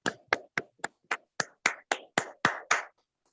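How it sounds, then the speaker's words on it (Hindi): About eleven sharp claps at a steady rhythm, close and distinct, as participants on a video call applaud to welcome a speaker at an online church gathering. "प्रभु के वेलकम के लिए तालियों के साथ स्वागत करेंगे।"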